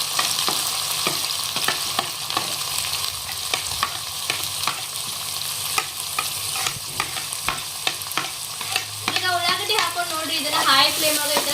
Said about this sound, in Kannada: ಇದನ್ನ ಹೈ ಫ್ಲೇಮ್ ಫ್ರೈ ಮಾಡ್ಕೊಂಡ್ರಿ ಅಂದ್ರೆ ಜಲ್ದಿ ಕಲರ್ ಬರ್ತಾವೆ ನೋಡ್ರಿ ಉಳ್ಳಾಗಡ್ಡಿ